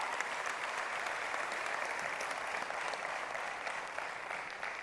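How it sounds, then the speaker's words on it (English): An audience at the OnePlus 6 India launch event breaks into steady, dense applause, a continuous wash of clapping from a large crowd heard at moderate distance for the whole stretch. "that deserves a huge round of applause for the entire product team and for all of you fans"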